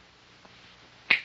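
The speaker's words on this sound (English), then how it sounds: "I'm going to bring you out of this trance by snapping my fingers." A single sharp finger snap rings out near the end, close and crisp after a stretch of near silence, used to bring someone out of a hypnotic trance in a television comedy sketch.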